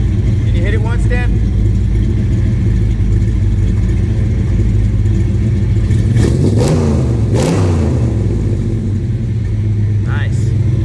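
1955 Chevrolet Two-Ten with a 427 big block, deep loud idle rumble throughout, then two sharp throttle blips that rise and fall before settling back, with brief voices near the start and end.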